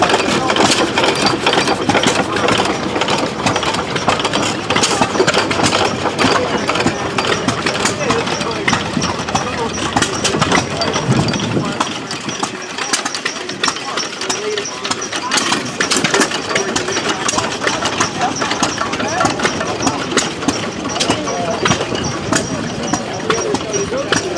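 Several old hit-and-miss engines run at the Schoharie gas engine show, giving a dense, steady chugging and rhythmic knocking throughout, with a voice talking over them.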